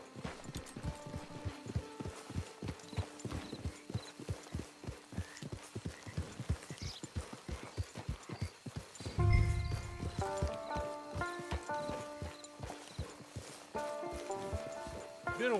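Steady clip-clop of horse hooves walking in a regular rhythm in the video game Red Dead Redemption 2 Online, with a brief whinny and a soft musical melody rising in the second half.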